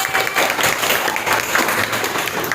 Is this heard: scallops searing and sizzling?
no